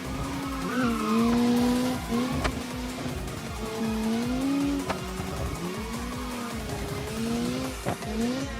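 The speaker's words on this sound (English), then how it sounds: "Missionsystem's doing some extreme drifts" Race car tires squeal through extreme drifts on an Italian mountain touge road in the Automation racing game, with wavering screeches riding over a steady, loud engine roar throughout.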